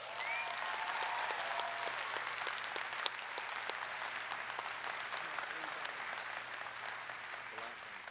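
A crowd applauds in a sustained round of dense clapping that holds steady for several seconds, with faint voices mixed in at the start.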